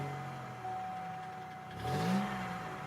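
Chevrolet Malibu engine idling with a steady hum, then revving up briefly with a rising and falling note, fairly close and without talk.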